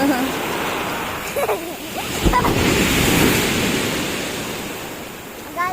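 Waves wash steadily onto the shore in a loud, continuous surge, with brief voices over the surf.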